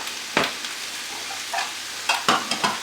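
Shiitake, button and portobello mushrooms sizzle in a pan as a spatula or spoon stirs them. The soft frying hiss carries a few scraping clinks against the pan, and nobody speaks.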